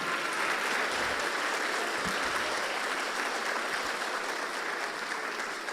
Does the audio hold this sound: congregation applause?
yes